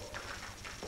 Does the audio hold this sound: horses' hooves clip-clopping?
yes